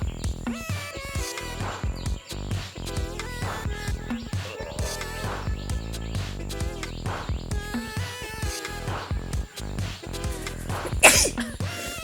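A single sharp sneeze during a family sneezing challenge, bursting out near the end over a steady bed of loud background music.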